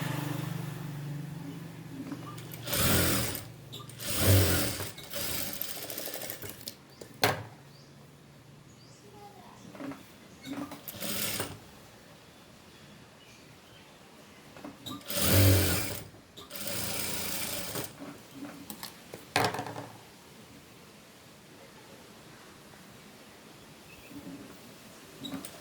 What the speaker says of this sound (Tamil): இதில் ஒரே ஒரு மடிப்பு மட்டும் இப்படி மடித்து வச்சு எல்லாத்துலேயும் சுற்றிலும் தையல் போட்டுடணும்